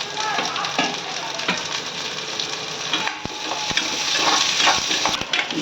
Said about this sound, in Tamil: கடுகு வச்சுட்டு தட்டி வச்ச பூண்டை போட்டுக்கோங்க அப்புறம் கொஞ்சம் சின்ன வெங்காயம் கொஞ்சம் வரமிளகாய்